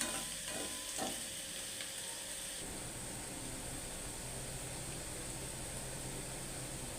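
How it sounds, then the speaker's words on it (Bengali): Watermelon rind cooking with shrimp over a low flame gives a steady, soft frying hiss, with a few faint stirring taps early on. It is quiet and continuous, with no voices. "এটা আর একটু ভাজা ভাজা হবে, খেতেও ভালো লাগবে।"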